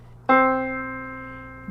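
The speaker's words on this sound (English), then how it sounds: "this middle C sounds like this" A single piano note, middle C, is struck and sustains with a gentle decay, another note beginning just as it fades.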